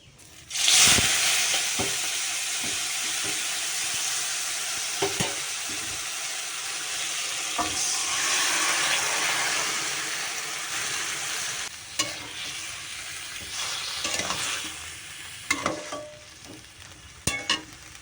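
Greens (saag) fry with black cumin in a wok, a loud, steady sizzle close by, with occasional clinks and scrapes from stirring throughout.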